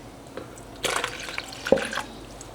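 Whey poured off curds from heated raw milk during cheesemaking, a few soft splashes and trickles of liquid over about two seconds, close and fairly quiet.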